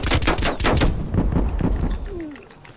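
Rapid bursts of automatic gunfire from Call of Duty Black Ops Cold War crackle loudly in the first second, then thinner scattered shots and game effects trail off as it fades.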